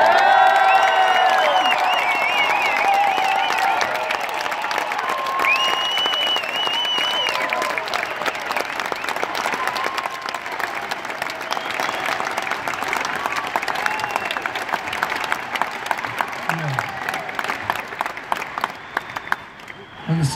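A large stadium crowd at a concert in Perth applauds and cheers in a steady, dense roar for about twenty seconds, with occasional whoops rising from the mass before it slowly thins.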